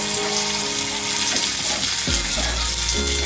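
Cashews and raisins sizzle and crackle in hot oil for a carrot halwa, a loud, continuous frying hiss with a few stirring clunks near the end.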